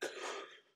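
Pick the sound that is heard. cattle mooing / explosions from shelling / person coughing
person coughing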